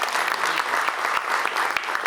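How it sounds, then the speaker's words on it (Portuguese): Audience applause at a medical conference in Salvador, Bahia, a steady, fairly loud wash of many hands clapping that holds for the whole stretch with a few sharper claps standing out and no voices over it. "eu queria pedir palmas"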